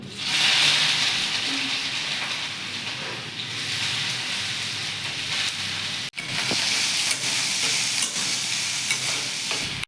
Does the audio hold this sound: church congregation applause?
no